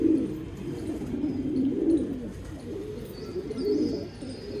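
Pigeons cooing in low, soft repeated calls, steady throughout with a faint higher chirp toward the end.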